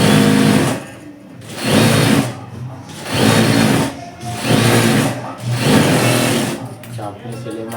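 A sewing machine stitches a capri in a series of loud, close bursts of rapid needle rattle, each lasting about a second with short slowdowns between them.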